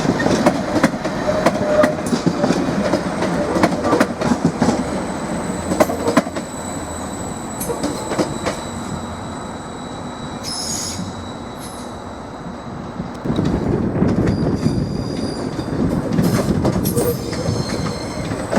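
A Class 755 train, unit 755417, arriving at a Norwich station platform, loud rumbling wheels with high squeals and metallic clicks, easing to a quieter stretch before the rolling noise swells again.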